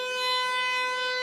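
A tornado warning siren from a Midwest outbreak wails as a steady, loud tone, sustained alone without any voices.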